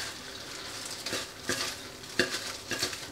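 Spinach being mixed by hand into sliced-onion pakora batter makes a series of wet, squelchy mixing strokes, about five distinct pushes over a faint background hiss, close and unaccompanied by talk.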